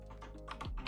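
A short run of quick keystrokes on a computer keyboard while coding a website, heard as soft, evenly spaced clicks over a low background hum.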